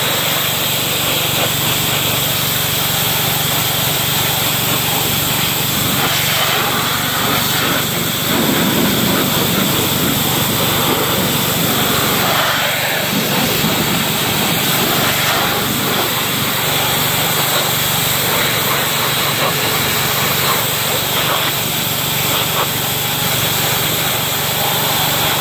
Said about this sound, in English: we're fixing to get the pressure washer cranked up